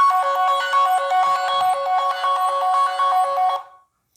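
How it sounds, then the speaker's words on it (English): A lost Android phone plays a loud, bright electronic ring tone in quick repeating bursts for about three and a half seconds, then cuts off abruptly into silence. "when you tap on play sound, what will happen is that the lost device will start ringing"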